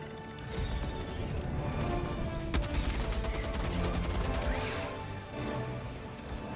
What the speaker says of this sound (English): The heavy machine gun's high damage per shot ensures you can dispatch these commanders quickly with at least 6 shots